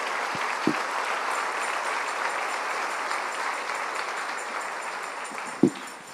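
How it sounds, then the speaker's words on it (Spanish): Congregation applauding in a church service, steady dense clapping throughout with a couple of sharp louder claps standing out. "Dele un aplauso fuerte al Señor."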